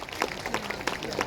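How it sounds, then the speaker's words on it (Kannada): An audience at a temple renovation and Basaveshwara Jayanti gathering gives a short burst of scattered hand clapping, moderately distant and brief. "ಚಪ್ಪಾಳೆ ತಟ್ಟಬಹುದು ಅಂದ್ಕೊಂಡಿದ್ದೀನಿ"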